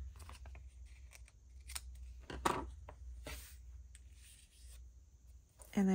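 Scissors snip paper for a paper craft in a quiet room, several short crisp cuts spaced irregularly, close and fairly faint, with a voice speaking briefly near the end.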